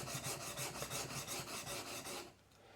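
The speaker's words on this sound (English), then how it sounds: "put the back of the chisel down here, or the face of it down, lift it up, and then just work that burr off." Chisel back rubbed rhythmically across a sharpening surface to work off the burr, a close rasping stroke repeating roughly every quarter second, then stopping.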